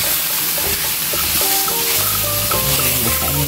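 Shrimp fry in hot oil while laksa is being cooked, a steady, bright sizzle and crackle close up, with light tonal music running underneath.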